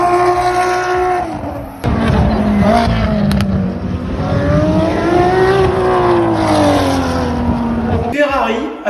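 A Ferrari 599 XX track-only race car engine roars loudly and continuously, pitch rising and falling through gear changes as it accelerates nearby, with a voice talking underneath.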